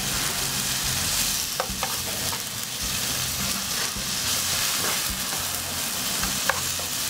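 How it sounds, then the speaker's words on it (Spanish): Tomato, green chili and onion frying in a pan for a beef tongue stew, a loud, steady, dense sizzle with faint occasional stirring clicks. "Esto lo vamos a sofreír porque aquí vamos a sofreír la lengua"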